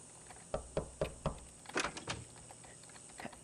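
Knocking on a door in the video game Thirty Flights of Loving: several sharp raps in a loose rhythm, a group of four followed by a denser cluster, heard close and fairly loud with no voices.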